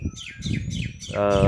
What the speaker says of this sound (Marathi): पक्ष्यांचा चिवचिवाट ऐकायला येत असेल